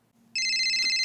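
A mobile phone ringing: a bright electronic ringtone tone that starts abruptly and holds steady, loud and close, preceded by a faint low hum.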